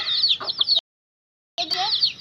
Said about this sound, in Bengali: মুরগি বাচ্চা রয়েছে